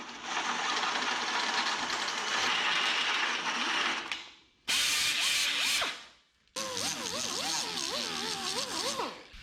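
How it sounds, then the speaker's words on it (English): Drill driving a step bit to cut a 3/4 inch hole in metal on a 1963 International Loadstar flatbed, three loud whining bursts with wavering pitch and brief pauses between them. "We need a 3/4 inch hole, that's exactly what the step bit is."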